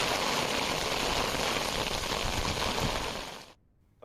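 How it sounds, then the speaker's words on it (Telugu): Heavy, continuous monsoon rain pours down in Telangana as a dense, steady hiss of drops that holds at full strength and then cuts off abruptly near the end. "ఎడతెరిపి లేకుండా కురుస్తున్న భారీ వానలు"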